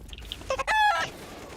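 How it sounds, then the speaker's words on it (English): Chicken clucking from a video game during a BLAST Premier esports match: a short burst of sharp, nasal squawks rising into one loud, sustained cackle that cuts off after about half a second. "I wasn't expecting the chicken noises at all."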